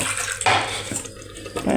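Water used to rinse a mixer jar is poured into a cooking pot for potato curry, a brief splashing pour with shifting gurgles, close and fairly loud.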